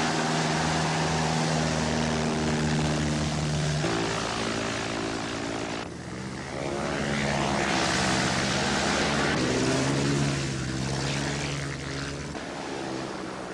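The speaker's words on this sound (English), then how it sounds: "You gotta learn to feel the aircraft." A small propeller plane in flight gives a loud, close, continuous engine drone with strong steady tones that shift in pitch partway through. There is no talk over it.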